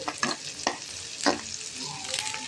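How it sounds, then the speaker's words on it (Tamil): Large onions frying in oil in a pan while cooking a chicken kulambu, with a steady close sizzle broken by several scraping stirs of a spoon against the pan; no one speaks. "கொஞ்சம் எண்ணெய் ஊற்றி பெரிய வெங்காயம் போட்டு"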